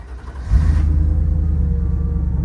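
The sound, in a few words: Ford Bronco Coyote V8 engine starting up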